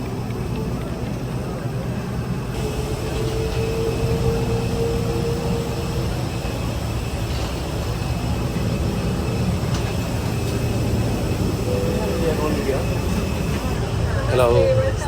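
Steady low engine and ventilation hum fills an airplane cabin during boarding, with soft background voices of passengers murmuring throughout and brief louder chatter near the end.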